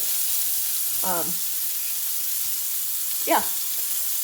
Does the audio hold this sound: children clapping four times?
no